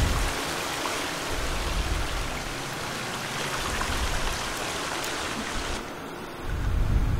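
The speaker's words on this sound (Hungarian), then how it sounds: "Nagyon csurog a víz, nagyon hangosan." Loud, steady rushing of flowing water in the survival video game The Forest, a dense continuous wash filling the whole stretch, close and unbroken with a slight shift near the end, no talking.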